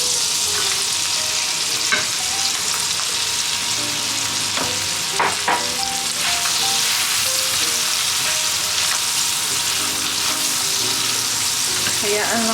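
Mushrooms fry in melted butter in a pan over medium to low heat, a dense, continuous sizzle punctuated by scraping stirs and a few sharp clinks.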